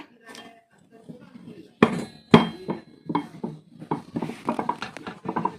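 Metal clanks and knocks from a roti press machine pressing dough for kadubu, with sharp hits near the start and quicker clatter later, close by with a voice talking over it.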